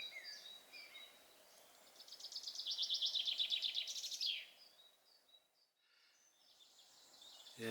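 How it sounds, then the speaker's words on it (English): Birds sing near a gently flowing river in a meadow: a rapid trilling song swells to a loud, close peak, then breaks off, with thinner chirps returning over a quiet background. "I'm just listening to the bees and the flies and the birds."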